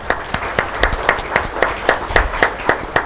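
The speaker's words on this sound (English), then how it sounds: "So let's give them a round of applause." An audience at an ICT week forum on digital inclusion breaks into steady applause, with dense overlapping claps ringing evenly throughout and no voices rising above it.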